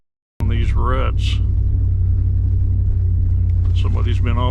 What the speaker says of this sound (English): Cars dragging on these ruts